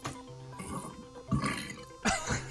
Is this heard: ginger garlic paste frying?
no